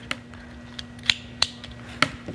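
Fabric squares for a quilt being cut apart along a drawn line, several sharp close snips and clicks at irregular intervals over a faint steady hum.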